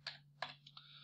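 A few quick keystrokes on a computer keyboard, soft and close, tapped in a short irregular burst over a faint steady hum.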